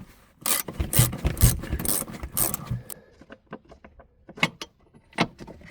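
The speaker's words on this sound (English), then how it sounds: "front bolts first using a ratcheting 3/4 inch wrench, because there's not a lot of space right there" A ratcheting 3/4 inch wrench works a front seat bolt in a cramped space during a vehicle tear-down, giving a run of close, raspy clicking strokes that are louder early on and then become sparser and lighter.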